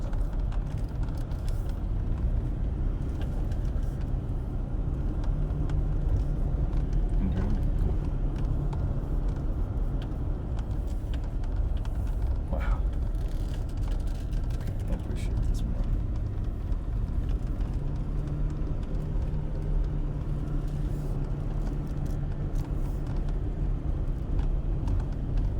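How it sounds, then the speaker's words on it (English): A small bus rumbles along on a bouncy ride near Scotts Bluff National Monument, a steady low engine and road drone throughout with occasional rattles and bumps. "Small bus, I guess."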